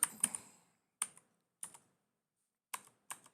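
Keys clack on a computer keyboard in short sparse bursts of a few strokes each, separated by pauses of silence, close and crisp with no voices.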